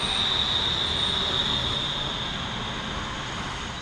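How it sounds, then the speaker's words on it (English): A BLS Lötschberger electric train made of three units rolls into a Swiss station, with a steady rumble of wheels on rail and a high, sustained squeal of wheels and brakes, gradually easing. "Here comes my train now. It's formed of three Lötschberger units"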